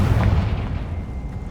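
A Confringo explosion spell goes off in Hogwarts Legacy: a heavy, booming blast with a deep low rumble that decays over about a second and a half, loud and close.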